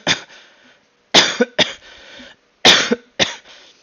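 Several harsh coughs come in two clusters, each a sharp burst followed by quicker hacks, close and loud with short silences between.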